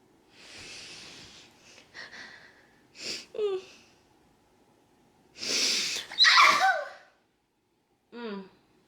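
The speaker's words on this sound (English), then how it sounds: "I had to sneeze." Sharp sneezes come close up, with heavy breaths and snorts leading into them and a small gasp at the end.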